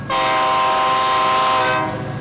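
A loud, sustained train horn at a railroad crossing on Ferry Street in Anoka blares continuously for about two seconds, close and steady, then cuts off, leaving a rumbling background.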